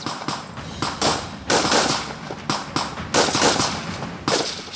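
Repeated bursts of gunfire as army commandos take position, sharp cracks clustered into rolling volleys that keep coming at close range with no voices.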